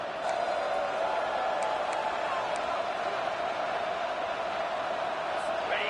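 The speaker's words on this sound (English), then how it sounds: "The crowd elevating its energy" A college football stadium crowd roars in a steady, loud wash of cheering and shouting as the defense faces a big third down, sustained throughout with no breaks.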